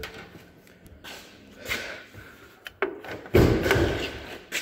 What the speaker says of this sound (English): And let's go ahead and pop the hood.